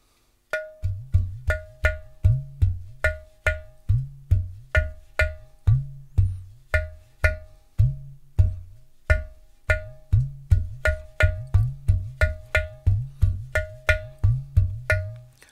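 A steady, fast rhythm played on a ghatam clay pot drum, mixing open, half-open and muted strokes, deep booming and sharper taps, in a repeating pattern, with no voices.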